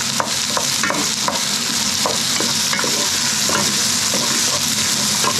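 Onions pan frying over high heat and being stirred, a loud constant sizzle with spoon scrapes and clicks on the pan throughout, close up with no talk.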